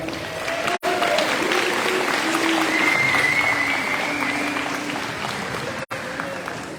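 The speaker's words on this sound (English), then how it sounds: "let's give them a big round of applause" Sustained banquet-hall applause from a high school athletic banquet audience honoring the boys team, dense steady clapping with crowd noise throughout, briefly cut twice.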